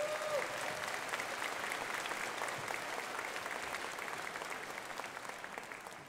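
At a 2016 community college commencement ceremony, the audience gives honored guests a long, steady round of applause that stays dense and even and then tapers slightly toward the end.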